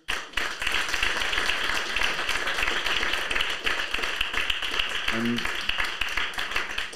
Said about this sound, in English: I just want to have another big round of applause for the panelists.